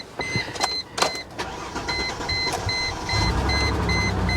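1979 Porsche 911 Targa on a dead battery being started, with clicks and cranking bursts before the engine catches into a steady low rumble near the end.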